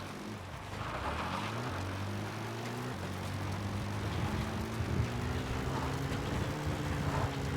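In Metal Gear Solid V: The Phantom Pain, a support helicopter approaches with a steady rotor and engine drone whose pitch slowly rises. It is heard over broad outdoor wind noise and grows gradually louder.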